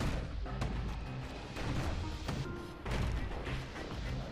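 Guns on a security skiff fire in the action game Bastion as a steady run of punchy, booming shots with clanking impacts, loud and close, repeating every half second or so over dense background game noise.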